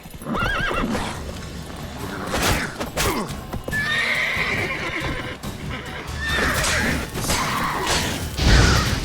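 Horse in the video game The Witcher 3 neighs and whinnies several times over steady clip-clopping hooves, with brief crashing and whooshing game effects mixed in, loud and close throughout.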